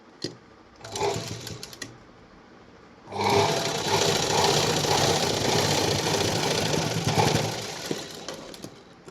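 A sewing machine runs a center stitch through folded double-layer blouse fabric: a short burst first, then a longer, steady, close whirring run for several seconds before it slows to a stop.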